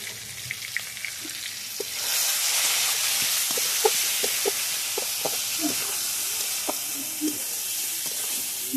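Salt, turmeric and chili powder frying in a pan: a quiet start breaks into a steady, bright sizzle, dotted with small crackles and pops.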